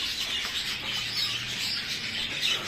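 Dense chorus of racing pigeons chirping and cooing in a loft, a steady mass of overlapping calls with occasional wing flutters, no talking.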